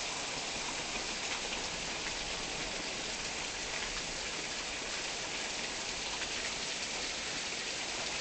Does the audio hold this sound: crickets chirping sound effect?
no